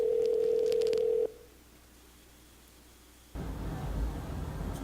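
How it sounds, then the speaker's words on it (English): A telephone dialing a clinic: a steady dial tone cuts off, a short quiet pause follows, then a louder rushing line noise begins, with faint tone blips early on. "Would you like me to dial the clinic now?"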